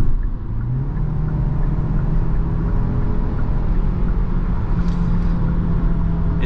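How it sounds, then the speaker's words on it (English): A 2023 Kia Sportage base trim accelerating on the highway, heard from inside the cabin as a steady, loud low engine and road rumble with a rising drone that holds throughout, no talking. "let's go ahead and do another acceleration right here."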